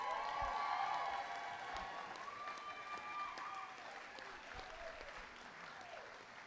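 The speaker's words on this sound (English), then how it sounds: "let's give them a big round of applause" Steady applause from a graduation audience at a high school commencement ceremony, with dense clapping and some cheering holding at a fairly even level throughout, gradually easing slightly toward the end.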